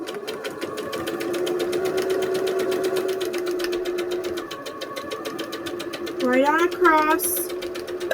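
A sewing machine stitches a quilt block seam in a fast, even mechanical rattle that runs close and steady, with a brief slowdown and rising whir near the end and a voice speaking over it.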